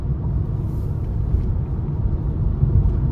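Steady low tire and road rumble fills the cabin of a 2023 Nissan Leaf S electric car at speed, a smooth continuous hum with no engine note.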